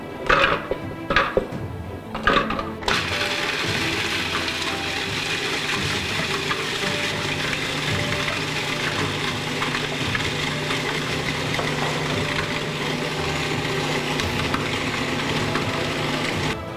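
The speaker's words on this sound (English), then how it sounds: "take the pecans and the shortbread and grind them up finely in a Cuisinart" A Cuisinart food processor grinds pecans and shortbread cookies: a few short pulses give way to a loud, continuous whirring grind that stays steady and close for the rest of the clip.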